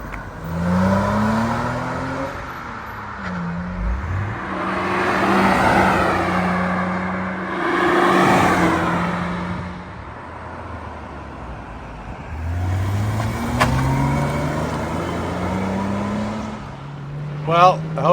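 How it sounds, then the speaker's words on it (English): Several sports cars, including a 1994 Jaguar XJS convertible, sweep past one after another, engines rising and falling as each approaches and fades, with a person speaking over them. "Well, I hope you enjoyed the flybys."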